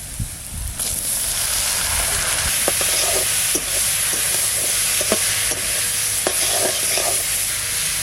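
Mushrooms fry in a pan with already browned onions, producing a loud, steady hissing sizzle at close range, broken by several sharp stirring clicks and scrapes.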